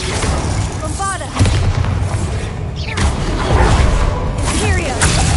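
Bombarda blasting spell explosions in Hogwarts Legacy, loud booming blasts and whooshes within dense battle noise, with a voice calling out amid the fight.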